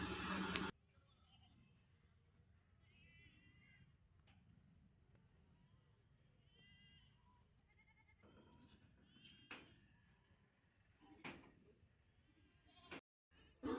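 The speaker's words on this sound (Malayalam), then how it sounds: "ഇതൊരു ടീമിൻ്റെ ആടുകളാണ്." Goats, mostly native and Malabari breeds, bleat at a large goat market in Kerala: a handful of faint, scattered calls from a distance over a low murmur of the crowd.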